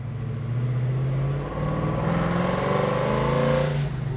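A 1970 Chevrolet Chevelle engine revs loudly and close as the car downshifts into third and then second, its deep rumble rising and falling through the gear changes.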